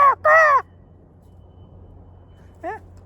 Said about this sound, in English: Let's just listen to the crows for a second